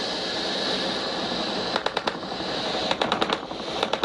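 Anti-aircraft gunfire in a tank battle video game, rapid bursts of sharp cracking shots in short clustered volleys over a steady engine-like hum, moderately loud.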